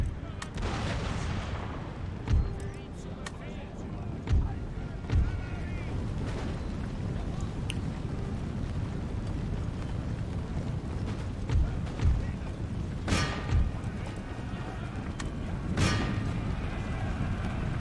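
Musket and artillery fire from a Prussian army battle in Empire: Total War, a dense continuous rumble of distant volleys with several sharper nearby shots and a few louder booming reports standing out.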